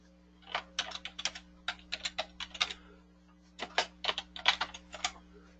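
Keys on a computer keyboard click in two quick typing bursts separated by a short pause, quiet and close, over a faint steady electrical hum.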